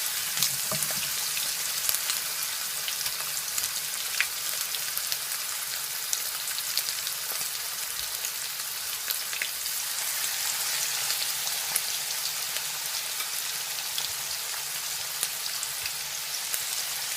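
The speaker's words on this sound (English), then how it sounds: "So now I'm gonna add my pork chops. Just make sure your oil is nice and hot." Pork chops pre-frying in a generous layer of hot vegetable oil for Jamaican brown stewed pork, giving a steady, dense crackling sizzle with scattered pops throughout, close and even in loudness, with no talking.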